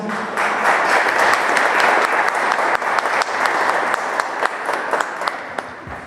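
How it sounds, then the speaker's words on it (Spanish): A large audience at a conference applauds loudly and steadily, with sharp individual claps standing out as the clapping gradually thins toward the end. "el ingeniero Dante Virgilio González Aceves, para quien les pido un fuerte aplauso."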